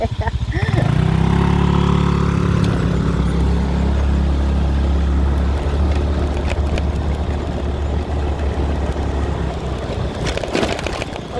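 A Scoopy 125 scooter engine drones steadily while riding on Koh Samui, loud and close, with wind rush and a brief rise in revs near the start.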